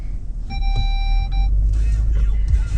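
An Audi RS5 engine idles with a deep, steady rumble close by, while a brief electronic tone chimes in the cabin.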